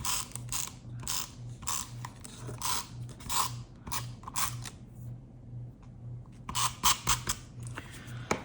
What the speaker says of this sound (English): And then I will put our regular tape runner onto the other part